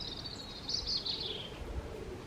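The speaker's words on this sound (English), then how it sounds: "You can hear that blackbird" A blackbird sings in a garden by a greenhouse, a bright warbling phrase rising and falling for about a second, moderately near over steady outdoor background noise.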